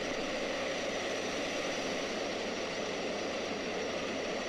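Fighter jet in X-Plane 11 flying over Venice, a steady, dense engine roar with broad hiss, even and unbroken throughout, fairly distant and moderately loud.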